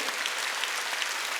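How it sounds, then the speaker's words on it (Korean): An Easter Sunday church congregation claps together in dense, steady applause that fills the room evenly, with sharp individual claps rising now and then and no voices over it. "이것이 이루어질 걸 믿는 사람만 박수로 하나님께 영광을 돌려야죠"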